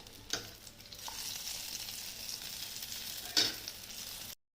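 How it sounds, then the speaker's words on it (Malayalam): Chana dal batter drops into hot oil as boondi for laddoo, giving a steady close sizzle and frying hiss, with a couple of louder splashy bursts as more batter goes in. "നമുക്ക് വാച്ചിരിക്കുന്ന മാവ് മുഴുവൻ ഉപയോഗിച്ച് നമുക്ക് പൂന്തി തയ്യാറാക്കിയെടുക്കാം"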